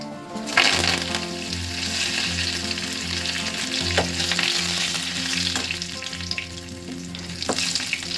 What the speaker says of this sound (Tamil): கருவேப்பிலை நல்லா இந்த மாதிரி பொரிஞ்சதுக்கு அப்புறம்